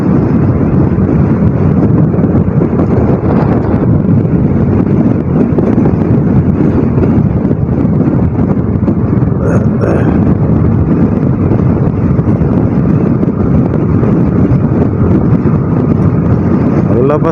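Steady, loud wind buffeting a microphone while riding a motorcycle at night outside SM Sorsogon, Bicol, a continuous low roar with no gaps throughout.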